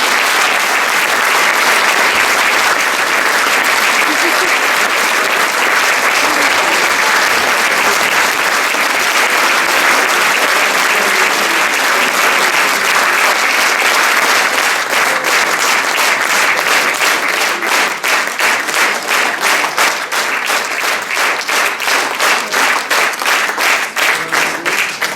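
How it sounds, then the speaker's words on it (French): After an amateur troupe's performance of a Feydeau comedy, a theatre audience gives loud, thunderous applause. The ovation holds for over twenty seconds and turns into synchronized rhythmic clapping partway through. "Merci de faire un tonnerre d'applaudissements à Viviane"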